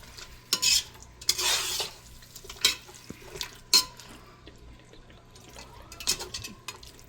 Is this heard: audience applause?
no